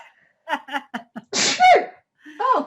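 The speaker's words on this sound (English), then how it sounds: "Oh, I'm going to sneeze." A single loud, close sneeze from an adult bursts out after a few short breathy sounds, then a brief exclamation follows.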